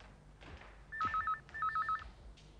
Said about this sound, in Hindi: फोन उठा लो।